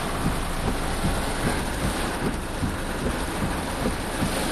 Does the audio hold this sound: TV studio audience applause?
no